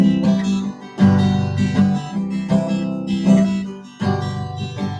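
Soft, mellow guitar chords picked with the fingers, gentle rounded attacks in an unhurried rhythm, moderately quiet with no voice.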